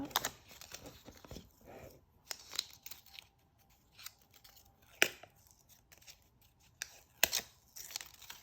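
Adhesive backing is peeled off a door hanger paint stencil, giving faint, sparse crackling rips and papery ticks scattered over several seconds in a quiet room.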